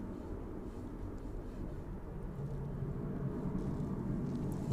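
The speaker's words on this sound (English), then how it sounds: "The final departure on this evening's stream, that Ryanair off to Valencia." A Ryanair airliner departs for Valencia in the evening at East Midlands Airport, a far-off low jet rumble that swells slowly and steadily with no talking.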